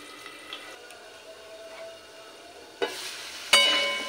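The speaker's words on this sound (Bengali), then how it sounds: "প্রথমে আলুটা 1 মিনিট মতন একটু ভাজা হতে দেব।" Potatoes fry in oil in a pan for a Bengali fig (dumur) curry, a soft low sizzle that swells into two louder bursts of hissing, close up with no talk.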